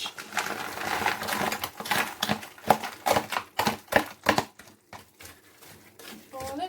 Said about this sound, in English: I'm just going to stir in the frozen veg.